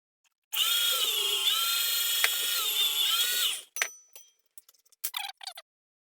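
A food processor fitted with a different cutter attachment shreds Parmesan cheese in a loud, steady motorized whir for about three seconds, then stops abruptly, followed by a few brief clicks and clatters.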